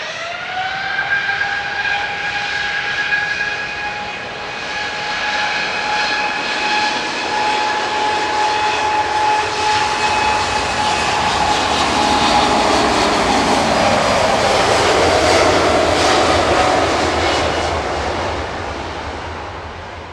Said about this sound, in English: Departing now is Ethiopian 727 to Addis Ababa via Marseille. ETAVB. It's a 350-900.